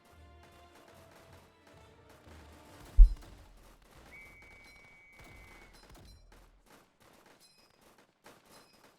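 Bazooka fire in the Northend Tower Defense video game, with a sharp explosive thump standing out amid rapid, faint gunfire crackle and scattered game effects.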